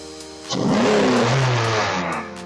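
A 2016-2021 Honda Civic 2.0L engine fitted with a Weapon-R intake idles, then revs up in one smooth rise with intake whoosh, holds briefly and settles back down, close and loud with no talking.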